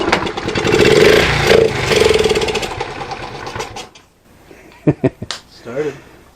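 A 1977 Honda Z50 small motorcycle engine kicks over and fires up, a close buzzing, revving rattle that rises and falls, then stops, followed by a few sharp clicks; voices talk over parts of it.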